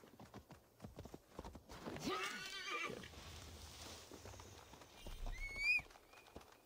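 Quick clip-clop of horse hooves trotting in Assassin's Creed Valhalla, followed by a horse's whinny, with faint game background sounds.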